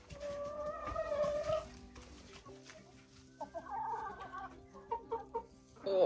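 Backyard hens nearing laying age cluck and squawk in uneven bursts, with a few louder calls near the end, close by and with no talking.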